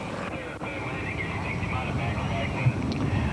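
A small 85-horsepower aerobatic airplane engine drones steadily throughout, distant and even, while someone talks over it.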